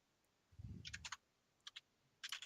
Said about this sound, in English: Someone's googling it. I heard some typing.